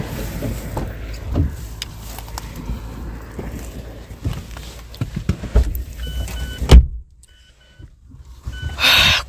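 Car doors and a power window in use as people climb into a parked car out in the countryside of Lesotho: rustling movement and knocks, a sharp door thud, soft electronic beeps and a whirring motor, with wind in the background.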